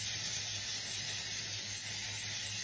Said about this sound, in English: every 2 to 3 hours, give her a spray. Let me show you how it works.